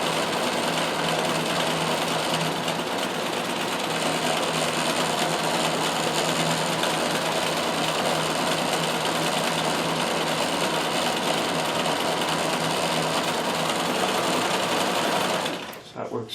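A Riccar 570 stretch-stitch sewing machine runs a straight stretch stitch, its needle mechanism whirring in a fast, steady continuous rattle close up, then stopping abruptly at the end.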